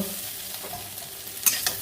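Soya chunks sizzling in a pan for a creamy Bengali-style dish, a soft steady fry with a couple of sharper scraping stirs near the end, close by and without speech.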